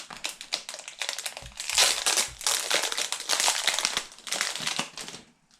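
Plastic wrapping around a Dayan Tengyun M speed cube crinkles and crunches continuously as it is handled up close, with dense bursts of rustling that fade out at the end.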